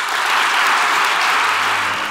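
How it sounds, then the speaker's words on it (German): Dense, steady applause from an audience greeting prize winners at a cantonal sports awards ceremony, a continuous loud wash of many hands clapping at once throughout. "Ich begrüße alle Preisträgerinnen und Preisträger mit einem grossen Applaus."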